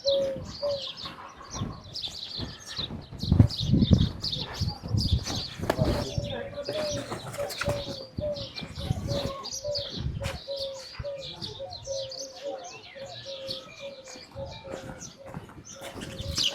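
In a peacock village in Thar, Sindh, small birds chirp busily against repeated low pigeon cooing, with occasional wing flaps and distant voices in the background.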